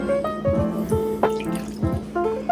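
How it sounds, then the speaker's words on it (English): Lemon juice poured into a measuring cup that had held olive oil, rinsing it out for garlic scape pesto: close liquid splashes and gurgling drips in uneven bursts, with no talking. "I'm going to pour that in there to give my cup a rinse to make sure I get all the olive oil out of it."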